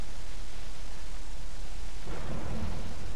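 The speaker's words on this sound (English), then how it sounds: "we leave and there's a storm coming" Stormy weather in the video game A Way Out: a steady, loud wash of rain and rumbling noise that swells into a heavier, low thunder roll partway through, with no talking.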